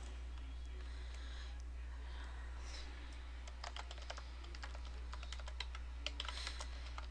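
Close keyboard typing on a computer: quiet at first, then a run of crisp, irregular keystrokes over a steady low hum, with no one talking.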